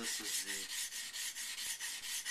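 A chisel being sharpened by hand, a rhythmic back-and-forth rasping stroke repeating roughly every quarter second, close and fairly quiet, with no talk.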